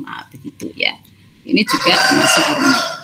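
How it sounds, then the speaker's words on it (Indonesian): A rooster crows loudly and at length close by, its harsh call filling the second half under a lecturer's talk on chemistry. "Ini suara ayam ya."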